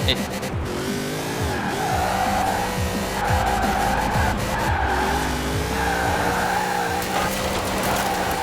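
An Alfa Romeo 155 Q4 set up with drift suspension slides through corners in Forza Horizon 4. The engine revs loudly and rises and falls while repeated tire squeals run throughout, close and continuous.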